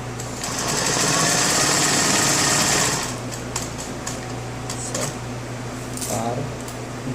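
Industrial 20U sewing machine stitching a square buttonhole in fabric, a loud rapid mechanical chatter for about three seconds, then quieter handling clicks and fabric shifting as the piece is turned, with a steady motor hum underneath.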